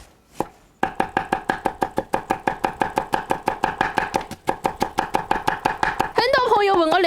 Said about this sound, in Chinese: 我们现在去把酸萝卜和菌干拿去切了。